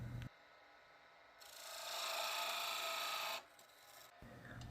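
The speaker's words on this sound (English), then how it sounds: "I'm going to use a parting tool and my calipers to kind of rough out the measurement" A parting tool bites into a spinning piece of wood on a lathe while a ladle handle is being turned, producing a rising rasping scrape for about two seconds before it stops, with the lathe running quietly before and after.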